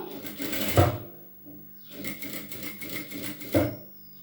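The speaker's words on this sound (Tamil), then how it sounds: "ஸோ இப்போ தையல் போட்டாச்சு, அந்த ஃபோல்டிங் வரைக்கும் தையல் போட்டாச்சு" Electric sewing machine stitching blouse fabric along a fold, a steady mechanical whir running in two bursts with sharp louder peaks, close and moderately loud with no talk.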